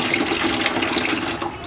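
Steady hiss of water running from the tap of a Surya 6-litre-per-minute gas geyser, a continuous broadband rush at constant level with no break.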